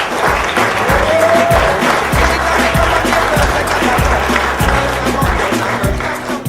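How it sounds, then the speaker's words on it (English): A crowd applauds steadily and loudly throughout, a dense wash of clapping that stays constant from start to finish. "So I'd like to invite you to give Sarah a nice warm applause"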